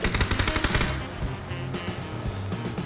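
Rapid bursts of automatic gunfire in PUBG crackle in quick succession, loud at first and then continuing a little lower under a steady background of game sound.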